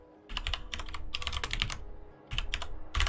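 Close, crisp typing on a computer keyboard during a Factorio gameplay session, with quick bursts of key clicks separated by a short pause.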